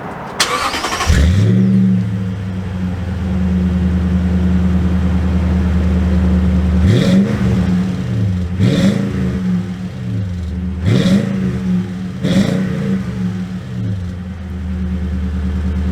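A 2021 Toyota Tundra SX pickup engine cranks and starts, settles into a deep idle, then is revved four times with loud exhaust roars that fall back to idle.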